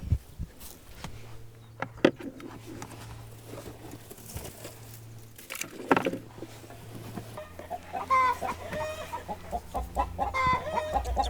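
Old hens clucking in a round, dome-shaped chicken coop, with repeated close clucks and squawks that grow busier and louder toward the end over a low steady background hum.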